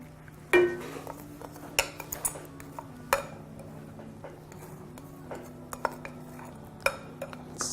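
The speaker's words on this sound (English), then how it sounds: "So I'm gonna stir this." A spoon stirs a pot of acha cooked with milk, giving sparse metallic clinks and scrapes against the pot at irregular intervals over a low, steady background hum.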